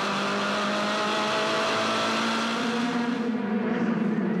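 Formula Ford race car with a brand-new Spectrum chassis, heard from onboard at Eastern Creek Raceway: a loud, continuous engine drone that holds steady, then climbs in pitch as the car accelerates, with no speech.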